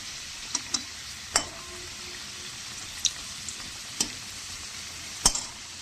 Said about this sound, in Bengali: দেখুন বন্ধুরা, আলু ভাজা প্রায় হয়ে এসেছে।